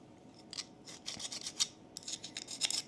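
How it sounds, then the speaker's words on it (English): A small needle file works around the edge of a metal part to take off burrs. Quiet, close scraping strokes come in short, uneven bursts with brief pauses between them. "Got the little needle file. I'm just going to work my way around the edge and take any burrs off of there."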